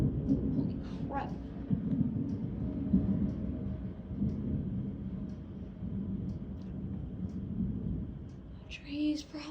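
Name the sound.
thunder from a lightning storm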